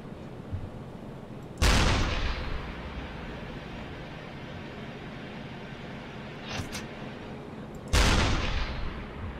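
Enemy ship gunfire in the submarine game UBOAT booms twice, seconds apart, each a heavy distant blast with a long rumbling decay over low background ambience and a fainter thud between them.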